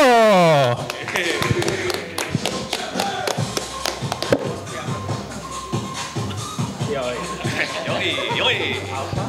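A comedy show crowd claps for a stand-up comedian, scattered close taps and claps building into busy applause with thumps and shuffling, while a voice talks over the start.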